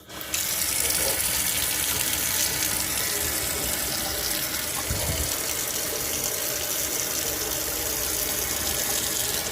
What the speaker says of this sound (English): I'm just going to take it over here to the sink and wash it away before I open it